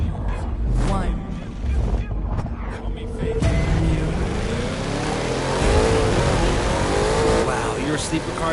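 A sleeper car in The Crew 2 racing game launches hard, its engine revving loudly and climbing through rising pitches as it accelerates and shifts gears.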